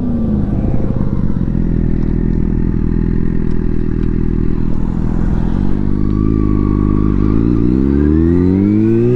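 A motorcycle engine screams at high revs, around 12,000 rpm in second gear, while riding, holding a loud, steady, buzzing note before the pitch climbs and bends upward as it accelerates, with some mechanical clatter.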